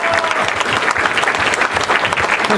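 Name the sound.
convention panel audience applauding and cheering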